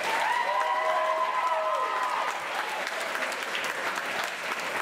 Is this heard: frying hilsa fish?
no